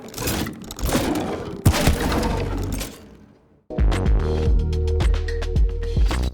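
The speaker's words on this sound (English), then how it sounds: "So overall, the Ballista sounds like this." Designed ballista shot built from heavy weapon sound libraries: loud layered impacts and crunchy cracking bursts, a short pause near the middle, then a second dense volley of sharp thuds and rattling hits.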